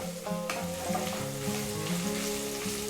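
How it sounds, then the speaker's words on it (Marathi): Garlic, ginger and green chillies fry in a pan with a constant close sizzle over a steady tonal background hum. "तर छान असं फ्राय करून घेऊ त्यासोबतच आपण इथे टाकूयात हिरव्या मिरच्या छान असं फ्राय करून घ्यायचं"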